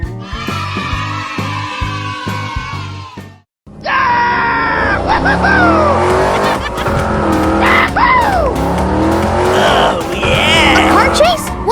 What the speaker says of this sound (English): A car chase?